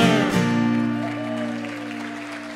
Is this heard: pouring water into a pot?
no